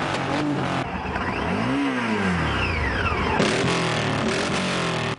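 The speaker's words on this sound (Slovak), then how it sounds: "V spanilej jazde okolo Zemplínskej Širavy sa viezlo až niekoľko tisíc motorkárov." Thousands of motorcycles ride in a rally around Zemplínska Šírava lake in Slovakia, engines roaring and revving steadily as bikes pass close by in a continuous loud stream, with one clear rising-then-falling pass-by.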